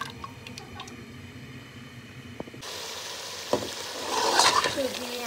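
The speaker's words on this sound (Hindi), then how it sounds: "यहाँ मेरा सालन भूनने पर आ गया है और मैं इसको भून रही हूँ" Curry (salan) sizzles in hot oil while being stirred, quiet scraping at first, then a louder steady frying hiss with wet squishy stirring sounds up close.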